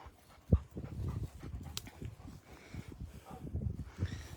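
A huge shelter dog pants and whimpers while being moved into a new pen beside other dogs, with soft, breathy panting running throughout and a sharp louder yelp near the start.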